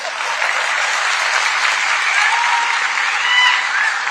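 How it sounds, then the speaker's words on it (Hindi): An audience in an auditorium at a public speech gives loud, dense applause, a continuous roar of many hands clapping with a few whistles cutting through. "इनके लिए ताली बजाइए।"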